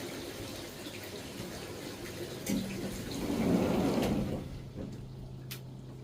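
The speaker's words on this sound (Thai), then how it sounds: "ได้ยินแต่เสียงน้ำตกของปู่" Steady rushing water from a waterfall fills the clip, a continuous broad roar with a deeper swell in the middle, heard close and without any voices.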